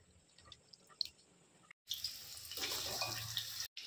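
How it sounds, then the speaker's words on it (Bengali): Slices of spiny gourd and potato are rinsed in water in a kitchen, giving quiet drips at first, then a brief pause and a steadier swish of splashing water close by. "ধুয়ে নিচ্ছি।"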